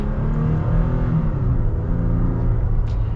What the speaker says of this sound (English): Now let's get a little minor acceleration here in the Tacoma Limited.